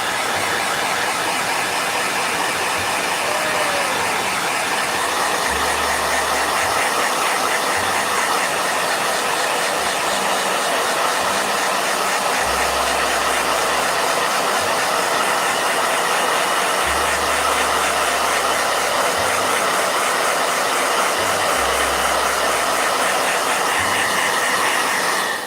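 A blow dryer runs steadily and loudly for the whole stretch, a constant broadband whoosh with low hum, used during a painting session; no one speaks over it.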